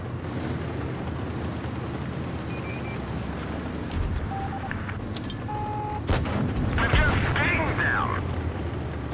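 Gunfire volleys from a tank battle video game, heavy booming shots rolling over a constant low rumble of engines and battle noise, with a louder burst toward the end and talk running underneath.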